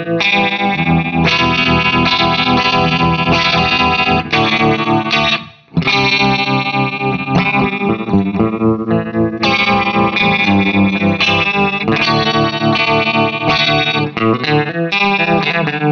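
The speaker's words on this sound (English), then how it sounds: "The flange by Hagerman can do more than just flanging." Electric guitar run through a Hagerman Flange pedal, loud and dense with swirling, distorted modulated chords playing continuously, broken by one brief dropout, with no talking.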